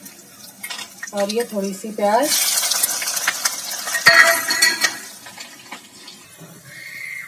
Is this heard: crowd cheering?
no